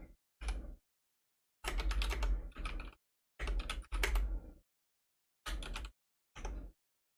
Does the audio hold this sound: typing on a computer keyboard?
yes